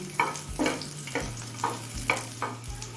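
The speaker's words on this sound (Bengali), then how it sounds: "একদম লো ফ্লেমে মিনিট তিন চারেক লঙ্কা রসুনটা ভেজে নিয়েছি" Chili and garlic are frying in oil over a low flame with a soft sizzle, while a spatula stirs the pan in regular strokes that clack against the metal, close and moderately quiet, with a low hum beneath.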